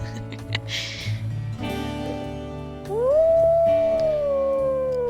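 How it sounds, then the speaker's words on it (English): Wolves in the video game WolfQuest give a long, rising howl that holds steady and slowly falls, loud and close, after a few seconds of softer animal sounds and game noise. "We're gonna howl."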